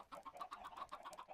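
Chickens in a pen in Minecraft give off a quick run of soft, rhythmic clucks, about a dozen in a row, faint and alone with no talk over them.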